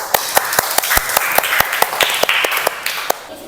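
Classroom applause for a student, a group of pupils clapping in a quick irregular patter of sharp, close claps lasting a few seconds with no talk.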